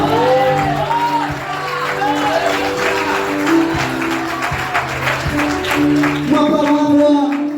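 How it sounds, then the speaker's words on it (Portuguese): Church congregation applauding during a vigil service, a steady spread of clapping mixed with shouts and cheers, over sustained musical tones in the background. "Pode aplaudir o Senhor Jesus por essa palavra."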